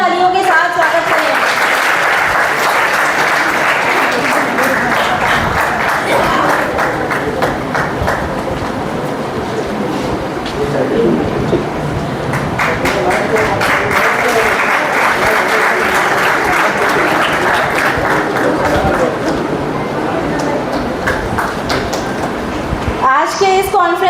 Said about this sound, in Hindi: जरा जोरदार तालियों के साथ स्वागत करें।